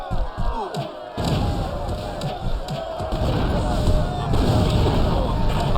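Grenade blast in GTA Vice City, a dense low boom at about one second that rolls into sustained rumbling game noise and crowd commotion, loud and continuous.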